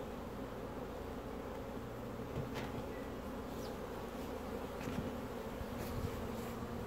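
Honey bees in a strong queenright hive make a steady, dense, low buzzing drone throughout, fairly faint and with no talking.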